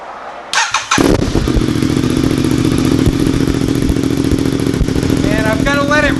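An Aprilia RS660 sport motorcycle engine cranks with a brief clatter, then catches and settles into a loud, steady running rumble up close, with a voice faintly audible near the end.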